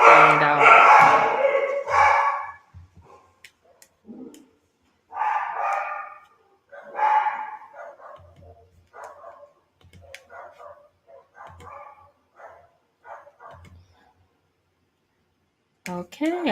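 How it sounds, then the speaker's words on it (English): A dog barks a few times close by at the start, loud bursts followed by quieter scattered yips and whimpers, while a person talks intermittently in the background. "Ooh, this dang dog."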